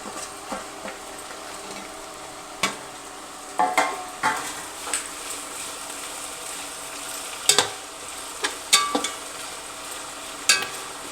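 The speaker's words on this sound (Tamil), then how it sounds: "வெங்காயம் வதங்கிட்டு இருக்குது" Onions, green chilies and mint sauté in a pan with a steady soft sizzle, and sharp scattered clicks and scrapes of a stirring spoon recur irregularly throughout.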